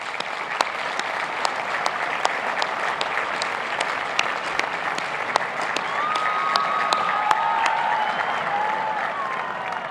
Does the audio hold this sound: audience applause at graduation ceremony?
yes